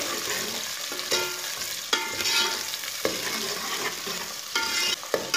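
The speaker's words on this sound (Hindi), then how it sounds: "लहसुन और प्याज को ब्राउन कर लेंगे।" Chopped onions and whole garlic browning in oil with cumin seeds, sizzling steadily while a spoon scrapes and stirs the pan in repeated sharp knocks.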